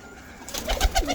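Breeder pigeons in a loft give several close, low coos in quick succession, growing louder after a quieter start.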